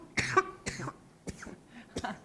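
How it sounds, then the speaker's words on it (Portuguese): Several sharp, separate coughs in a quiet room, spaced irregularly and fairly close. "A tosse não estava no programa."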